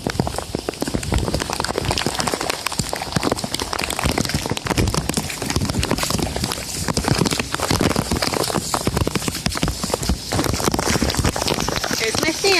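Heavy rain from Tropical Storm Isaac pours down steadily outdoors, a loud, dense, continuous patter with wind-like hiss and no letup.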